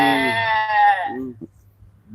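A person imitates a goat with a loud, wavering, nasal bleat lasting about a second, followed by a few short breathy vocal sounds close to the microphone.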